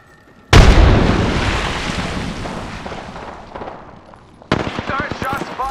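A frag grenade detonates in the battle royale shooter Apex Legends with a loud, booming blast that rumbles and decays over several seconds, followed by a sharp volley of rapid gunfire.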